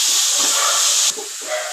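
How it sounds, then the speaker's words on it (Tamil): Ginger garlic paste sizzles and hisses in a hot pan for a mutton soup, a loud, close, continuous sizzle that drops slightly partway through. "கொஞ்சமாக இஞ்சி பூண்டு பேஸ்ட்டு. அதை நம்ம நல்லா வதக்கலாம்."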